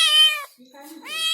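A cat in a village home gives two loud, close meows with a brief quiet gap between them, each call rising and falling.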